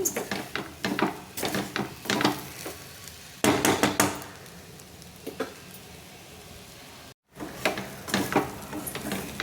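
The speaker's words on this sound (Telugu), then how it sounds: "కొబ్బరి చక్కగా వేగిపోయినట్లేనండి. ఇంకో 2 నిమిషాలు ఫ్రై చేసుకుంటే చక్కగా ఫ్రై అయిపోతుంది." Fresh grated coconut frying in a pan for an okra stir-fry, with scraping spatula strokes coming in bursts over a soft background sizzle.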